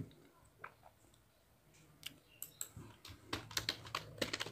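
Code being typed on a computer keyboard while building an Android layout file, with quiet scattered keystrokes that pick up into faster, louder clusters of clicks toward the end, close by and with no talk.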